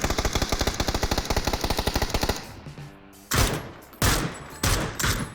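Gunfire in the video game PUBG: a long rapid burst of automatic shots, then a pause and three separate loud, sharp reports with echoing tails.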